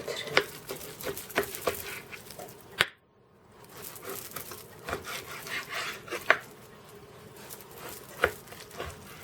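A knife slices beef into strips roughly 1.5–2 cm wide on a cutting board for a beef stroganoff goulash, giving a string of soft, close chopping taps with a brief pause partway through.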